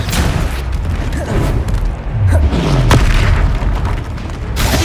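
A Confringo spell explodes in the video game Hogwarts Legacy, giving loud, booming blasts and bursts over a dense, continuous roar of battle sound.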